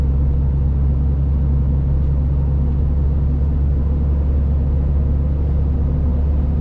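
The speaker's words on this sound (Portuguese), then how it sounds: "Os pneus fazem um pouquinho mais de barulho que o BF, como eu já falei." Loaded Dodge Ram pickup cornering, its tires adding a hum to a steady, loud low road rumble that stays constant throughout with no talking.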